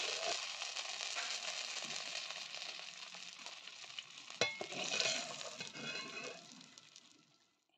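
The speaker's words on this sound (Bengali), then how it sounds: "আর ফোড়নে ব্যবহার করছি গোটা জিরে, তেজপাতা।" Whole cumin and bay leaf fry in oil for a tempering in a fish-head curry, giving a soft, close sizzle and crackle with a sharp clatter midway before the sound fades out.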